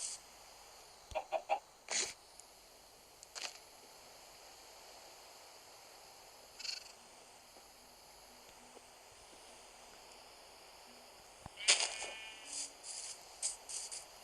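Scattered Minecraft chicken clucks and short squawks come in sporadic bursts over a quiet, hissing background.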